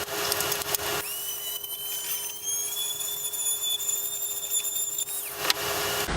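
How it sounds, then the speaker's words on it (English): A Dremel rotary tool enlarging old holes in a plastic trash can gives a close, steady, high-pitched whine for about four seconds, with brief handling noise before and after it. "the best way to get these old holes from the old things that just came out resized is with the Dremel tool."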